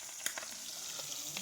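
Oil sizzles softly with green chillies in a pan over a wood-fired stove, a low, even crackle with a few faint clicks.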